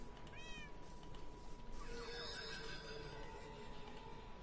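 Cats meow in the Minecraft video game: two faint, high mews, a short one near the start and a longer, drawn-out one a little later, over a steady low background hum.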